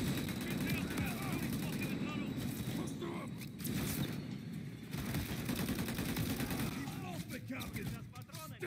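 Suppressive automatic gunfire in the Call of Duty MW3 finale, continuous rattling bursts at close range with a low rumble and shouting voices mixed in.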